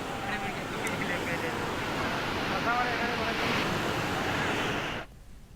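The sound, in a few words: Jadi Malkapur waterfall, floodwater flowing after heavy rain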